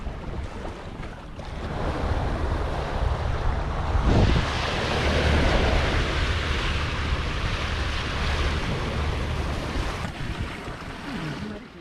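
Sea waves and wind wash against a sailboat on the passage along the Algarve coast toward Faro, a constant broadband rush with surging swells and gusty microphone wind, no voices.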